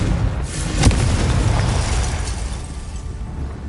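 Confringo blasting spell going off in Hogwarts Legacy: a loud, deep boom with a sharp burst near the start, then a rumbling tail that fades over a few seconds, with no talk.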